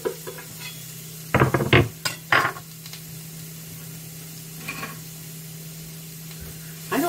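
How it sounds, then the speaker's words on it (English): Chicken pot pie filling sizzles and is stirred in a pan, giving a low background fizz broken by a few sharp scraping and clinking bursts of utensil against cookware, with no one talking. "Sizzle, there we go."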